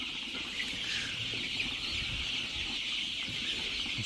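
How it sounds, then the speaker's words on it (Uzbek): Andijan black chicken chicks cheep in a dense, continuous chorus of high peeping, close and steady, with no talk. "O'sha Andijon qora tovuqlarining jo'jalari."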